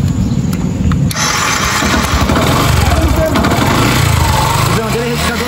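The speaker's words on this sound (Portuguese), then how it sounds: "Liga aí pra gente a moto." A Yamaha Fazer 250 motorcycle engine starts and runs at a loud, close, pulsing idle, with voices talking over it throughout.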